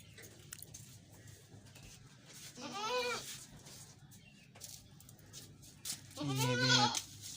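Desi-breed goats at a livestock market bleating twice, two wavering cries a few seconds apart, the second louder and nearer, over faint background noise.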